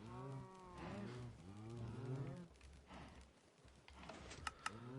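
Cattle mooing in the Minecraft video game, several drawn-out bellowing moos in a row, fairly loud and overlapping, followed by a few sharp clicks near the end.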